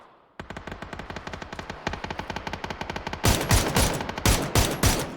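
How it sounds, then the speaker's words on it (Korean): Rapid automatic gunfire bursts in the PUBG video game, a fast even stream of shots followed by louder, heavier volleys near the end, close and dominant with no talk over it. "누가 나 쏜다"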